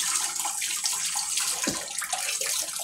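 Hands being washed with foaming soap under a running tap in a kitchen, a steady close splashing rush of water with a brief gurgle partway through.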